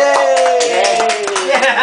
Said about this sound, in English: She clapped.